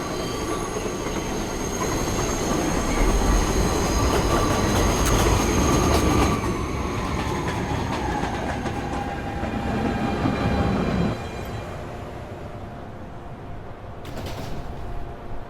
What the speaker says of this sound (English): This is a Manhattan-bound 1 train, 107th Street.